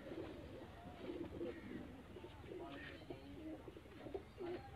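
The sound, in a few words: Lakha pigeons cooing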